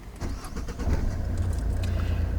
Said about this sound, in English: John, if you'd like to start the engine for me.